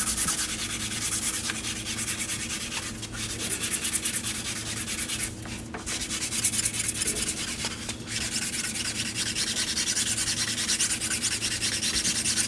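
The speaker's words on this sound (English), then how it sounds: "we'll take our block sander and we'll sand our profile so that it's all nice and smooth and ready for paint" Block sander worked over the profile of a wooden cabinet door panel for a sliding shelf, a steady close abrasive rubbing that continues for the whole stretch, with a few brief louder scrapes and no talking.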